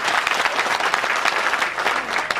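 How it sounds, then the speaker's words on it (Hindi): An audience at a political gathering in India claps loudly to welcome a speaker to the stage, dense, close, continuous applause from a large crowd. "जोरदार ताली बजा करके इनका स्वागत करिए"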